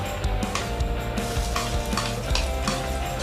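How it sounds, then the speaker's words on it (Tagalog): Steady sizzling of garlic sautéing in hot oil in a pan, with occasional stirring scrapes and light clinks, continuous and close. "isote po natin hanggang mag-brownish siya ng konti"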